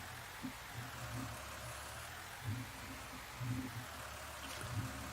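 Steady rain in the Farming Simulator 19 video game, a soft, even hiss of falling water that runs without a break under faint, low rumbling thumps of farm machinery.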